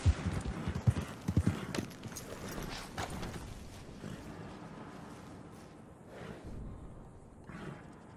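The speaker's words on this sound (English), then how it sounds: "This horse is far too slow for my liking." Horse hooves clip-clop in the Red Dead Redemption 2 video game, louder and clustered at first and then fading to a quieter, steady trot under ambient game noise.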